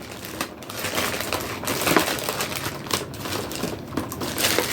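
Plastic packaging on an action figure being handled and opened: dense, continuous crinkling and crackling close to the listener, with irregular bursts and no talking.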